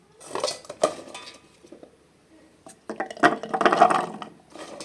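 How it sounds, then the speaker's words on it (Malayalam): A knife chopping onion and carrot on a board while making a green beans stir fry: irregular close clacks and taps in two bursts separated by a brief quiet pause, with no talking. "ഇനി നമുക്കിതെല്ലാം ഒന്ന് മുറിച്ചെടുക്കാം കേട്ടോ"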